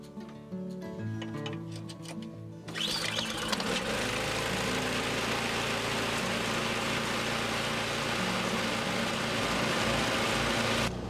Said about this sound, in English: That started on the first pull on a cold engine, so I'm happy with that.